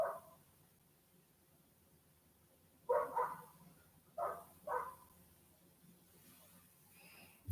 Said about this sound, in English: I hear my neighbor's dog is kicking up a fuss